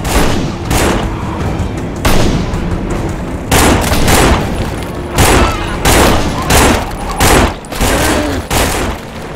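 Repeated gunfire bursts in the zombie shooter No More Room In Hell, loud volleys arriving every second or so across the whole stretch, with faint voices behind them.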